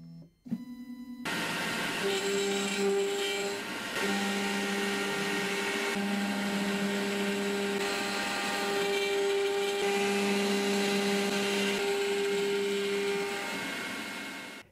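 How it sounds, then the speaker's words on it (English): Makera Z1 benchtop CNC mill running a 90 degree chamfer bit along part edges, a steady loud motor whine with sustained tonal hum and cutting hiss throughout after a brief start. "a 90 degree chamfer bit is used to break the edges with a clean chamfer."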